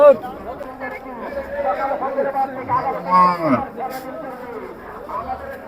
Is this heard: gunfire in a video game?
no